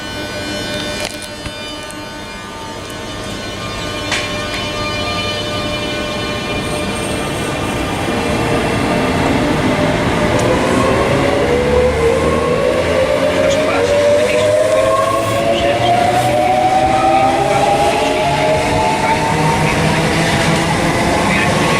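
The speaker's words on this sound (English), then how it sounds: "Okay, this train is now departing. This is 365519, Renault 365, forming the delayed 1315 ScotRail service from Glasgow Queen Street to Edinburgh." A ScotRail Class 365 electric train departs Linlithgow station. Its whine rises steadily in pitch as it accelerates, with loud rolling rumble and a platform announcement and talk running over it.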